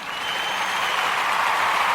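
A round of applause from a community gathering celebrating Kuumba during Kwanzaa, a steady wash of clapping held at an even level for two seconds with no talk.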